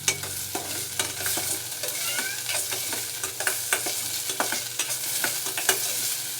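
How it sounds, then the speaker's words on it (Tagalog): A basic soup being stirred in a cooking pot over sizzling heat, with regular scraping and clinking strokes of the utensil against the pot about once or twice a second, close and clear, no talking. "Haluin nyo siya guys para hindi siya masunog."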